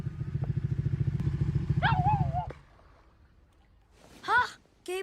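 A motorcycle engine idles close by with a steady, pulsing putter that cuts off after a couple of seconds, followed by a quiet gap and then bursts of excited talking.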